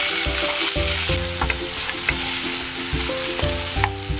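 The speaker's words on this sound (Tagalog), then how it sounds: "Now let's heat our oil to saute our minced garlic" Minced garlic sizzles and fries in hot oil in a pan, a loud, steady crackle with no voices, while background music plays throughout.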